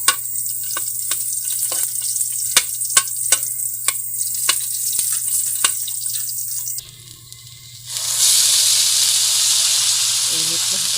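Garlic sizzles and crackles steadily as it fries in a pan, with sharp pops and spits and a louder hiss toward the end, heard up close with no speech.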